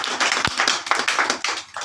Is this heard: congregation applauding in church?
yes